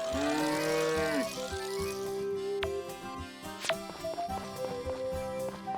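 Cattle mooing in the farming game Story of Seasons: Friends of Mineral Town, with several drawn-out, tonal moos layered over light game music and occasional soft taps, fairly close and clear.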